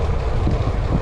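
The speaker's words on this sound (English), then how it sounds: "Definitely got the wind in my back" Wind roars across the microphone while riding a Trek Domane AL 2 road bike outdoors, a loud, steady low buffeting rumble filling the whole moment with no voices.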